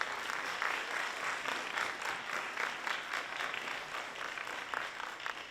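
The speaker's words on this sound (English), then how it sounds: "A big round of applause." Audience applause at the opening of an Indigenous Peoples Summit, with steady, fairly distant clapping from a crowd that swells and eases slightly over several seconds.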